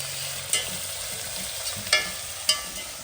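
Onions and green chilli sauté quietly in a pan, a soft, even sizzle broken by three or four brief scraping stirs of a spoon.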